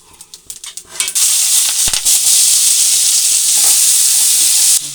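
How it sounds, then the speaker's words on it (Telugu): Eggs frying in oil in a pan for a village-style egg fry, a loud steady sizzle that swells after a few sharp crackles and pops and holds strong until it eases near the end, with no talk. "కోడిగుడ్లు వేయించుకోవాలి ఇలా కొడుగుడ్డు ఇలా వేయించుకొని తీసుకోవాలి"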